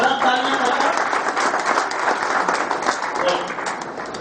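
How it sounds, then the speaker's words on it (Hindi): Loud, dense applause from an audience at a company event, sustained steadily for the whole stretch with some voices mixed into the clapping. "जबरदस्त तालियां बजाओ।"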